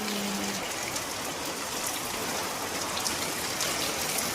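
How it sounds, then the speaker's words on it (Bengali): Heavy rain pours steadily on a village house and wet stairs in a strong wind, a dense, continuous hiss of drops and splashing water that stays loud and even throughout with no voices. "ভালোই জোরে নামছে বৃষ্টি।"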